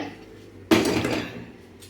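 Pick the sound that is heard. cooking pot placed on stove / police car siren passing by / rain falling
cooking pot placed on stove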